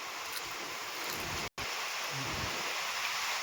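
Constant rain pours down in a dense, even hiss, broken by one very brief dropout in the middle.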